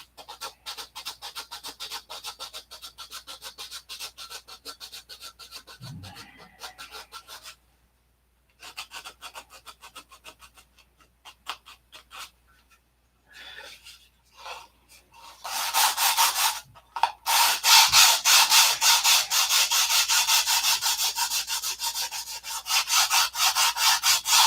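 Fiberglass cloth is rubbed or sanded by hand in quick, rhythmic rasping strokes, quieter at first with short pauses, then louder and denser in the latter half.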